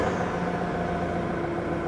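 A GTS T-5 forklift's diesel engine runs at a steady idle, started for DPF regeneration, giving a close, continuous droning hum with a faint tonal whine and no speech.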